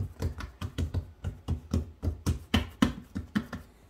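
Hands pressing and flattening soft bread dough for fried doughnut rolls, a steady series of about a dozen soft, close slaps and pats at a regular pace, with no talk.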